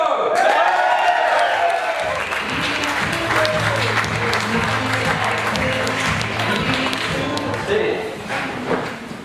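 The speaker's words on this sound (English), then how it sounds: "I'd like you to give a really big, rousing, stand up, cheer, and welcome to Steve Piro." A large audience at a Startup Grind event bursts into sustained applause and cheering as a speaker is welcomed onstage, loud and steady clapping with crowd noise throughout.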